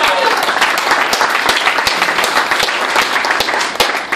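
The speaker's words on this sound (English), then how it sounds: "Everyone round of applause for Gani Brown." Audience applause for a stage magician's trick at a live show in Anaheim, a crowd clapping continuously for about four seconds with sharp individual claps standing out over the steady patter.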